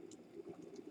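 Sweet corn boiling in water inside an electric kettle, a steady low bubbling rumble with faint, irregular hissing pops, close and continuous for a short moment.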